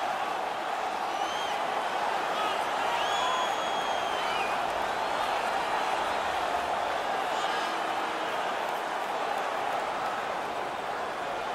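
A home crowd roars during an NHL 19 hockey game, a dense, steady wall of cheering and noise that holds loud and unbroken throughout, with faint whistles riding on top.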